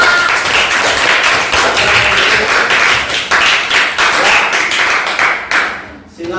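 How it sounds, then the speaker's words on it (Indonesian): A classroom of students claps loudly and continuously after a group presentation, a dense close burst of many hands that tapers off near the end. "Tepuk tangan."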